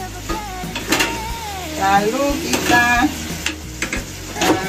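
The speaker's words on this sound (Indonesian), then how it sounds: "Nah, kita aduk-aduk sebentar." Chicken with dried shiitake mushrooms and oyster sauce being stirred in a pan, with a light sizzle under scraping and clinking utensil strokes at irregular intervals while a person speaks briefly.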